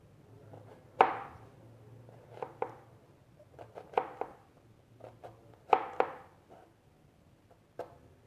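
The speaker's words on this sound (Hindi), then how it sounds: "अब हम इसी तरह अपने प्याज को भी कट करते हैं" Onions being cut with a knife for a Spanish tortilla omelette: sparse, irregular knife taps on a board, some sharper and closer than others, quiet with a low steady hum behind them.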